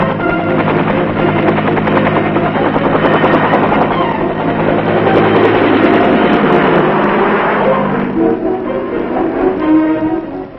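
A U.S. Army air ambulance helicopter in the Vietnam War flies close overhead, its loud, throbbing rotor and engine roar filling the whole stretch without pause.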